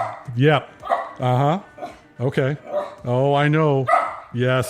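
A dog in a podcast studio barks and yips in several loud, close bursts, with whining, tonal vocalizations between them, while people speak briefly over the top.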